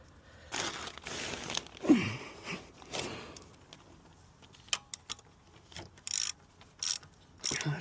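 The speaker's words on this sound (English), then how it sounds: "I got a ratchet." A ratchet tightens the oil filter on a 2015–2019 Yamaha R1 during an oil change, giving close, quiet bursts of clicking and mechanical scraping in short irregular strokes separated by pauses.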